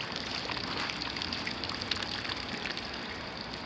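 Water running steadily in a backyard pond, a continuous splashing trickle with an even, fairly loud wash of sound close by and no voices over it.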